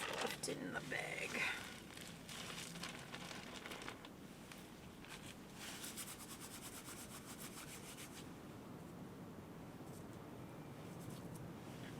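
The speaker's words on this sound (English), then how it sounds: "So I'm rubbing these around in my hand just to quick get out what's in here." Dried flower heads being rubbed between the hands to shake loose their seeds, a soft, continuous close-up scratchy rustle, louder and busier at first then settling into a steady gentle grind.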